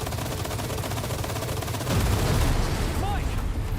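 Turret gunfire in Resident Evil 4, a dense, sustained rattle of rapid shots that swells louder partway through, with a brief whistling tone near the end.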